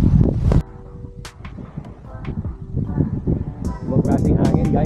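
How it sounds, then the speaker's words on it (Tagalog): Strong gusts at a beach campsite buffet the microphone in heavy low rumbles that ease briefly and then build again, with talk over the wind. "Ibang klaseng hangin guys"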